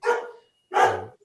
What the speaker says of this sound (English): I've never had a dog bark on the show before.